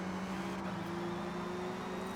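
A race car engine in Forza Motorsport (2023) drones at full throttle, a faint, steady tonal whine with a sustained pitch and constant low rumble, held evenly for a couple of seconds with no talk.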